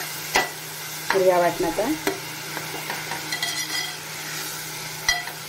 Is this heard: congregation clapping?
no